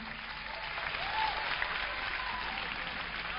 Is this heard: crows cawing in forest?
no